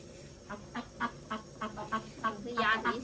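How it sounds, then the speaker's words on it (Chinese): A duck quacks repeatedly, about a dozen nasal honking calls in a steady rhythm that grow louder and more rapid toward the end, close by with quiet background. "这鸭子一直在叫"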